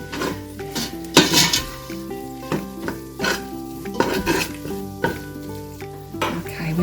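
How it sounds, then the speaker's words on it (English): Butter and flour roux cooking in a casserole pan for chicken noodle casserole, with steady sizzling and repeated scraping stirs of a utensil against the pan, under a musical bed with no talking. "we are making a roux with the butter and the flour"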